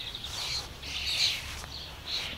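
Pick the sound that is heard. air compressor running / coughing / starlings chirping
starlings chirping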